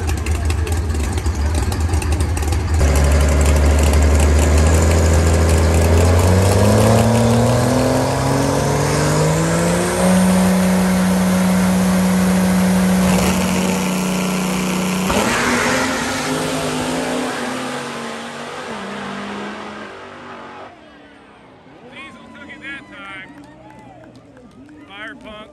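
A diesel drag car and a gas Corvette race at a drag strip, with loud engines revving and accelerating hard. The roar rises in pitch and then fades into the distance over about twenty seconds.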